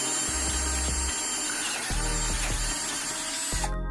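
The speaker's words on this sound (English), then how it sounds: "Just like the other side, pre-drill it." A drill pre-drills holes through several layers of metal to mount an air suspension on a C63, with several short bursts of whirring rising and cutting off in a choppy rhythm, close and loud, without any talk.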